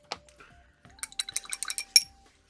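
Model paint being stirred in a small pot, a quiet run of light clinks and tapping clicks, irregular and close, with brief pauses between bursts.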